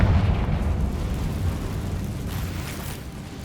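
A Confringo spell explodes in Hogwarts Legacy, giving a loud, deep, rumbling boom that fades slowly over a few seconds with no voices over it.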